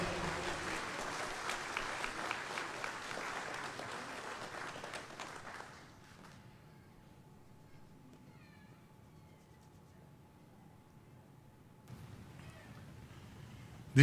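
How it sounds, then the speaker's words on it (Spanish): A church congregation at Sunday Advent Mass applauding for the Virgin Mary, sustained clapping that fades out after several seconds into a quiet hall, with a brief rustle near the end. "Vamos a darle un fuerte aplauso a la Virgencita."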